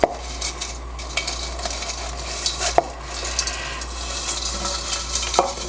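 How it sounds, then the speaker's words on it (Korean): Glass noodles for japchae being stirred in a pot of boiling water, a steady bubbling hiss with occasional clinks and scrapes of a utensil against the pot, close and continuous. "끓는 가마에 분탕을 넣습니다."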